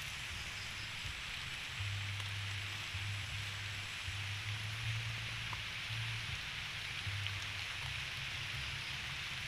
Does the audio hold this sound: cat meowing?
no